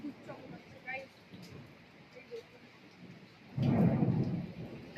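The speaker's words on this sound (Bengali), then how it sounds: "খারাপ খারাপ খারাপ করে বিদ্যুৎ চমকাচ্ছে গাইস।" A thunderstorm with lightning and heavy rain: a soft rain wash with faint voice-like murmurs, then a loud, deep roll of thunder swelling near the end.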